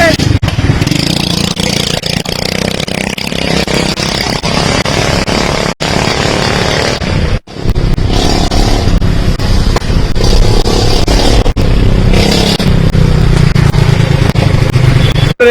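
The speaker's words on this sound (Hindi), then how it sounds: "स्कूटी इंजन है" A small scooter engine starting and then running and revving loudly and continuously up close, with short dips in between.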